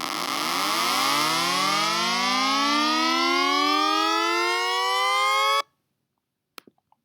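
A loud tornado siren wail synthesized in Adobe Audition rises steadily in pitch for several seconds, then cuts off abruptly and leaves near silence with a few faint clicks.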